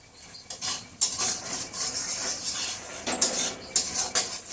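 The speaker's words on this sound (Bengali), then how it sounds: "গ্যাসের হিটটাকে এখন একটু বাড়িয়ে দিচ্ছি মশলাটা কষানোর জন্য।" Masala being stirred and fried in a pan over high gas heat, a soft hiss of frying with sharp intermittent clinks and scrapes of a spoon against the metal, close up and without speech.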